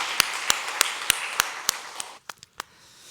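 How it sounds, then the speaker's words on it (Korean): A church congregation at a Sunday Thanksgiving worship service claps in praise: about seven sharp, evenly spaced claps in a steady rhythm, then a brief pause and a few scattered, irregular claps. "이런 하나님께 우리 영광의 박수 한번 돌립시다"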